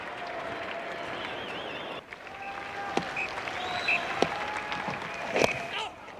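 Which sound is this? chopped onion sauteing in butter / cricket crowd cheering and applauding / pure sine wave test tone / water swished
cricket crowd cheering and applauding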